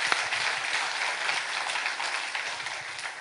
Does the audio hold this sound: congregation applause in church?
yes